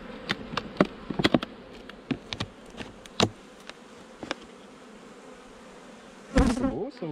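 Honeybees buzz in an opened hive, with a steady hum broken by sharp clicks and brief loud bursts near the end.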